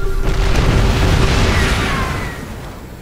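Weapons fire from Terran units in StarCraft II, a heavy booming explosion that fills the opening seconds and then slowly fades out, loud and dense with no talk over it.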